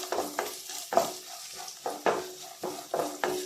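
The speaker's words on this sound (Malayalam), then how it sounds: "ആ നെയ്യിലിട്ട് നമുക്കൊന്ന് മൂപ്പിച്ചെടുക്കാം." Coconut pieces frying and being stirred in ghee, a steady sizzle broken by repeated scraping stir strokes about every half second, close and fairly quiet.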